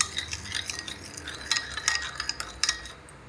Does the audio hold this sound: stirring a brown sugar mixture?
yes